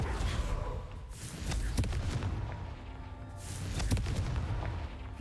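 Confringo spell blasts in Hogwarts Legacy, two sharp booming impacts about two seconds apart, each trailing into rumble over steady background game sound.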